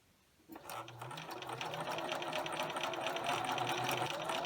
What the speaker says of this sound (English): start stitching again forward using a 1/4 inch seam